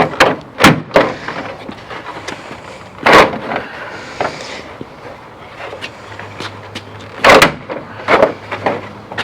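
Plastic grille clips being pried off a Ford F-350 pickup, giving loud sharp cracks and snaps at irregular intervals over a faint background hum, with no talking.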